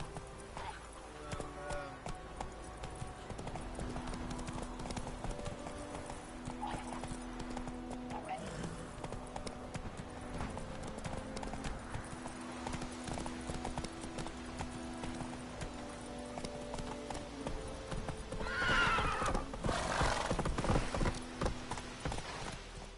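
Game audio from a PS4 title: a horse's hooves clip-clop in a steady galloping rhythm with a neigh near the end, set against background music and faint speech.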